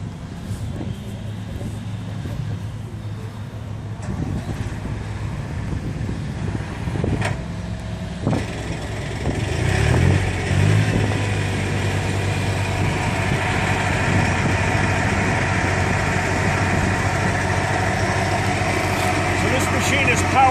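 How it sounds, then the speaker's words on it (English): A tractor starts up and settles into a steady engine drone while its PTO drives a Typhoon RCA 400 Joy machine, the rumble growing louder and fuller midway with some mechanical clatter on top. "Let me just start the tractor, get the PTO turning, and I'll show you how it runs."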